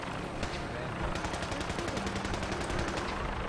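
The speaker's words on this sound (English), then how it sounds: "Who's shooting?" Rapid bursts of automatic gunfire in the video game Fallout 4, a steady rattling stream of shots that sounds somewhat distant, continuing for several seconds with a brief lull near the start.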